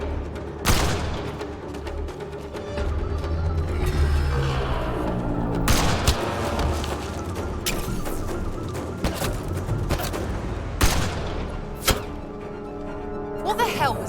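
Gunfire during a firefight in the video game Mass Effect Andromeda: loud, dense bursts and sharp shots over a continuous battle din, with several heavy cracks standing out and voices shouting in the mix.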